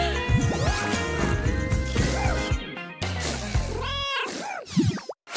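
A stray cat meows several times, with drawn-out rising and falling cries standing out against a busy background of music and clatter.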